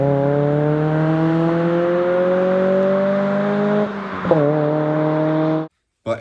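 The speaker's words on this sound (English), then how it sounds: "I love the Racing Beat race exhaust." Car with a Racing Beat race exhaust droning at steady cruise, a loud sustained low harmonic hum holding for several seconds, briefly dipping and wavering, then cutting to silence near the end.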